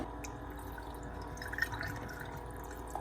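Water trickles and drips steadily into a drip coffee maker being filled for a fresh pot, a soft continuous liquid pour close by with no talking.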